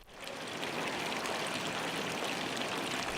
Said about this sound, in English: The historical fountains add extra character to the Old Town.